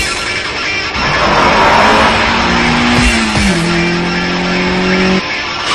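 Tires on a Mitsubishi Lancer Evolution IV RS (CN9A) squeal as it drifts, a loud sustained screech over roaring engine noise, near and intense, with the pitch sliding in long held tones.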